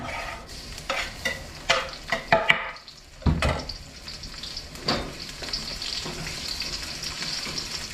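Garlic dropped into hot oil and stirred, a loud close sizzle with scraping and clattering of the pan, then a steady crackling fry that settles into a softer hiss.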